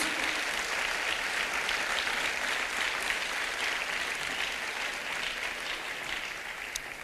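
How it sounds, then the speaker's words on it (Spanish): A church congregation claps as an offering to Jesus, producing steady, sustained applause from a large group that continues evenly from start to finish. "Es una ofrenda de palmas a Jesús"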